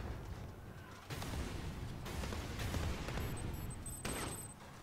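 RPG rocket launcher firing in Modern Warfare Special Ops, a loud burst and rumble amid steady gunfire, with another sharp blast near the end, fairly close and without talk.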